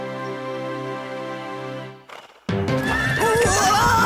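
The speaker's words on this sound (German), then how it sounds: "Pferdchen!" A horse neighs in a long, loud, ringing whinny, then after a brief pause sharp clopping hooves mix with a high, wavering call that continues to the end.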